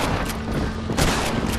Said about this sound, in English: Three shots. Running out of bullets here.